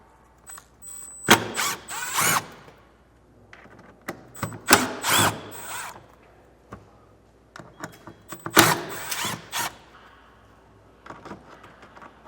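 A power drill spins out Phillips screws on a 2025 Acura MDX, giving several short bursts of whirring separated by pauses, loud and close, with small clicks and handling noises between runs.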